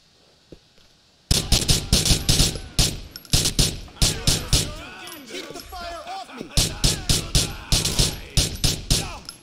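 Rapid bursts of gunfire from a gun in Grand Theft Auto 4, loud and close, firing in quick clusters with short pauses between them and a brief stretch of other game sound midway.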